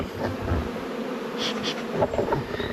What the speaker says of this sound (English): I'm going to let the bees get acquainted with their new homes.